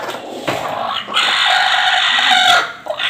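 A village hen clucks and squawks close by in a harsh, continuous burst lasting a few seconds, with no talk over it.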